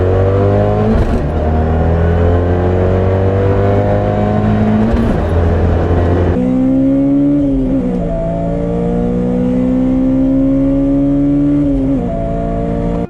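A tuned Acura RSX Type-S with an FBO setup, KPro tuning and a short-throw shifter pulls hard in an aggressive acceleration test, its engine note climbing through the revs, dropping sharply at a gear shift, then rising again, loud and close.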